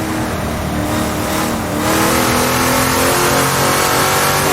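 A race car in Assetto Corsa at Mont-Tremblant roars close by with a loud, steady high-revving engine note that swells slightly as it pulls around the outside of a slower car, with no talking.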